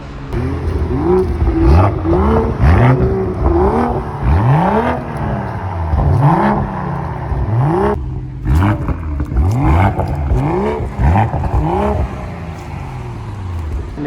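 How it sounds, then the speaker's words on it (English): A rev battle between modified BMWs, one fitted with a Miltech exhaust and one with an original BMW M Performance exhaust, at a car rally. Repeated loud, close engine revs rise and fall in quick bursts, with a clattering exhaust crackle and no talking. "This has the Miltech exhaust, and the left one, this car is from Bombay, and this has the original M Performance exhaust from BMW. So let's have a rev battle."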